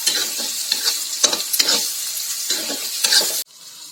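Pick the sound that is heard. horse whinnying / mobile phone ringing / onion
onion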